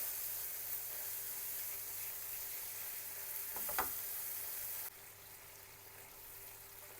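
Green bean broth is poured gradually into flour sizzling in a pan, a soft steady frying hiss with one brief splashy burst midway, quiet and close.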